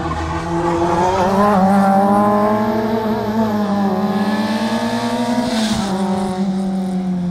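Fiat Seicento Sporting rally car's small engine revving hard and pulling up through the gears on a race track, a loud sustained buzzing drone with rising pitch and a brief lift near the end, no talk.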